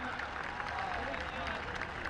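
Crowd applauding at a Dussehra festival gathering, a sustained wash of many hands clapping at moderate distance, steady for a couple of seconds with a few voices mixed in.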